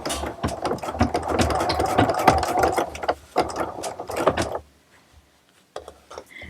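A sewing machine stitching shelf liner gripper material, a close rapid mechanical whir and rattle running for several seconds, then stopping, followed by a few brief clicks.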